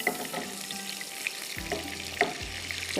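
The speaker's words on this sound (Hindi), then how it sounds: "ये जा रहा है अब इसके ऊपर तड़का" Hot butter tadka poured over a Lahori karahi curry, a steady close sizzle and crackle with small pops and a couple of dull clunks of a pan or spoon, no speech.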